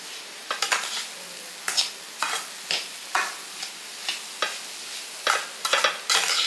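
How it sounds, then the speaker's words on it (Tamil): Sathu maavu laddu mixture being stirred with milk, a spoon scraping and tapping against the vessel in repeated short strokes, close and clear with no talking. "இப்போ ஒன்று சேர்த்து எல்லாம் கிளறிட்டோம்"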